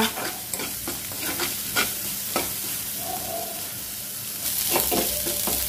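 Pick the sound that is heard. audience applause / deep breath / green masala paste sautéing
green masala paste sautéing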